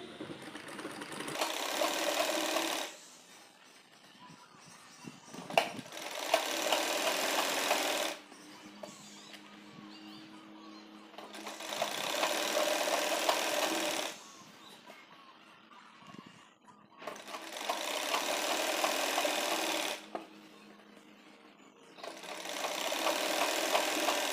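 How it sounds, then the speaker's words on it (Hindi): A sewing machine runs in several long bursts while stitching a six-panel petticoat, each steady whirring run a few seconds long and separated by short quiet pauses, close and fairly loud. "और इस तरह से सिलाई करेंगे।"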